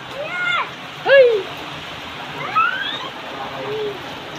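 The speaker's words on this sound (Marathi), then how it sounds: "केवढा मोठा पाऊस आहे" Heavy rain in strong wind pours steadily as a dense, continuous hiss close by, with voices talking over it at intervals.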